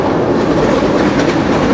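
From inside the carriage, a dense, unbroken roar of wheels and coaches on the rails comes from the Kapotaksha Express speeding between Khulna and Rajshahi at around 90 km/h.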